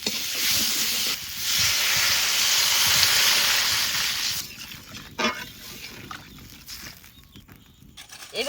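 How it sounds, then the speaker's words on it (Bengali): Water poured into a pan of frying ripe mango and spice paste in a village kitchen, giving a loud steady sizzle and steamy hiss that fades to a quieter bubbling crackle partway through. "এবার জল দিয়ে দেবো।"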